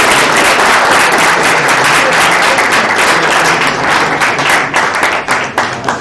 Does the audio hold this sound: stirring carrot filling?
no